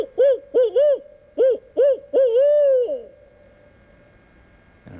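Voice imitating an owl's hoot as a turkey locator call: a series of about six loud, close hoots in a quick rhythm, ending in a drawn-out wavering hoot, then quiet.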